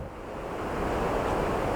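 A seriously flooded river rushes below, a steady broadband roar of churning water that swells slightly louder and holds constant, with no voices over it.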